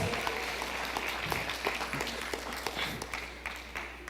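A church congregation applauds, a faint and continuous patter of clapping heard from a distance.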